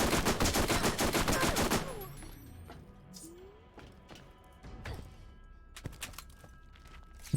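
Shotgun blasts from the Borderlands video game, a rapid run of loud shots packed into the first two seconds, then a quieter stretch with a few scattered distant reports and thuds.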